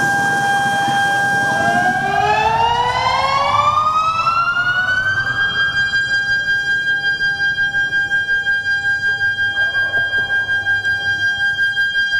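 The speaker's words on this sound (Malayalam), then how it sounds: "കോഴിക്കോട് വയനാട് കണ്ണൂർ കാസർഗോഡ് ജില്ലകളിലാണ് മഴ മുന്നറിയിപ്പ് സൈറൻ മുഴങ്ങിയത്" A rain warning siren of the Kavach alert system in Kerala rises in pitch into a loud, sustained electronic wail and then holds a steady tone, with a faint pulsing rumble beneath it.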